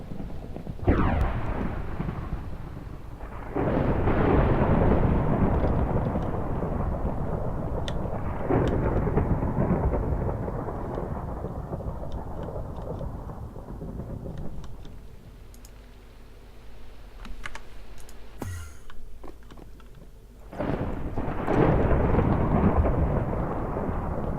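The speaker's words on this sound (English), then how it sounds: "Oh, what's with this thunder?" Thunderstorm in the Minecraft video game: heavy rolling thunder rumbles in long loud swells, easing off midway with faint clicks before another strong roll of thunder returns near the end.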